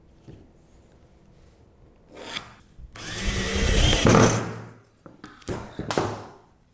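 A power drill drives screws to fix a wooden batten onto a board, with a long loud whirring burst in the middle framed by shorter scraping and rubbing handling sounds, close by.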